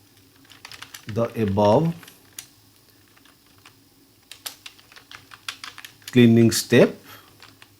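Scattered clicks of typing on a computer keyboard, light taps spread through the clip between two stretches of someone speaking.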